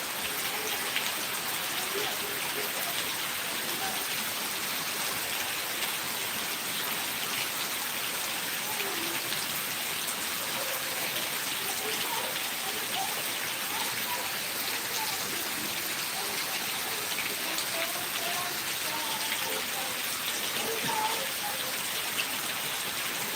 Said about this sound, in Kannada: ಮಳೆ ಬಂತು ಮಾರೆ ಎಂತ ಮಳೆ ಮಾರೆ